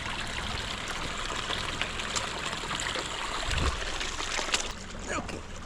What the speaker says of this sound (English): Little creek crossing here.